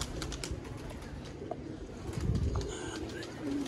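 Domestic pigeons kept by a pigeon fancier in Haripur, Hazara, cooing in low repeated calls amid soft rustling and a few faint chirps, with no talking.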